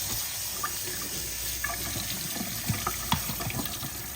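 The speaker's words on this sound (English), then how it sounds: "I'm going to give it a quick rinse to get all that little slippery stuff off of the beans" Drained canned red beans are rinsed under a running kitchen tap, a steady close rush of water with soft splashing and a few small knocks, no talking.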